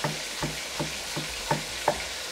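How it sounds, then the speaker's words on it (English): Meat for a ragu frying in a pan, a steady sizzle broken by regular stirring scrapes roughly every half second, close and clear with no voices. "We can hear the meat cooking, sizzling."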